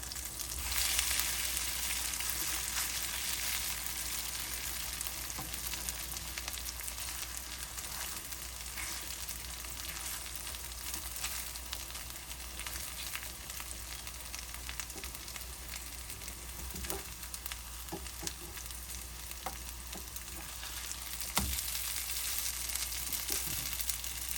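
Chicken tawa kebab sizzles on a hot griddle after being turned, a steady, close frying hiss that runs unbroken throughout, with only a few faint clicks and taps here and there.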